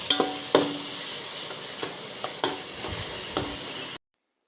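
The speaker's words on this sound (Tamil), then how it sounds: "நீளமாக நறுக்கி வச்ச 3 பழுத்த தக்காளி ஆட் பண்ணி நல்லா வதக்கிக்கோங்க" Three sliced ripe tomatoes sauté in a hot pan for plain biryani (kuska), giving a steady sizzle broken by several sharp scrapes and clinks of stirring up close, then cutting off abruptly.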